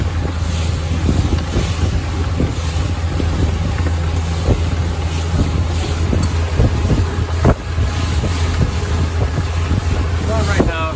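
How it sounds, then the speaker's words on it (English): A Carolina Skiff 23LS boat engine drones loudly and continuously over Lake Worth, with wind buffeting the microphone and occasional splashes and knocks from the hull. "I've got this big boat coming down the channel."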